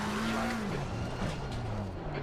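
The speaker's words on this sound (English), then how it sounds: "Cars coming." Race cars approach at Brands Hatch in a racing video game, with a steady engine drone whose pitch shifts and dips as the cars close in, over a dense broadband roar.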